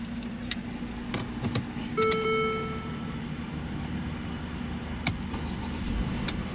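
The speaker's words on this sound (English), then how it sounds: "What you're hearing there is a 3-liter Biturbo V6" A 2018 Mercedes-Benz GLE 350's 3-liter twin-turbo V6 idles steadily with a low, even hum, while a few brief clicks and a short tonal chime sound near the start.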